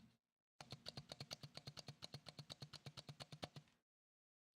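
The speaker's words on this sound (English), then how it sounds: "That's my old keyboard." Typing on an old computer keyboard, a steady run of about twenty crisp, close key clicks in even rhythm in a quiet room, then silence.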